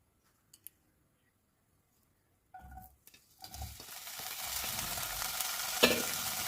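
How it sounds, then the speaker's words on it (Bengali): Paneer pieces frying in a light coating of mustard oil in a wok, starting after a few quiet seconds with soft clinks, then building into a steady close sizzle with stirring, one sharper clatter near the end. "প্রথমে আমি হালকাভাবে পনিরগুলোকে ভেজে নেব।"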